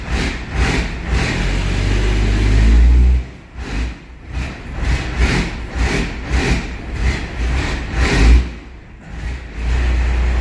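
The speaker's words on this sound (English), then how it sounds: "Well, she starts. So it idles low right now, but it comes up once it's warm." A 3rd-gen car's engine cranks and catches, then settles into a low, uneven idle with occasional revs rising and falling, loud and close throughout.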